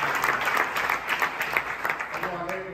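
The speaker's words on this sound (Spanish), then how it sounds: "aplauso al Señor." Congregation in a church claps rhythmically in unison, a steady beat of clapping with voices mixed in, moderately loud throughout.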